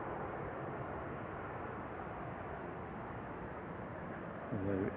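A Ryanair Boeing 737-800 arriving from Brussels touches down at Manchester Airport, heard as a steady, fairly faint broadband roar from a distance that holds evenly throughout.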